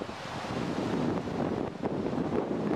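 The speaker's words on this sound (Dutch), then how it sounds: "Er staat een behoorlijke harde wind vandaag." Strong, steady wind buffets the microphone on the beach at Sunny Beach, Bulgaria, a continuous dense roar with faint surf mixed in and no talking.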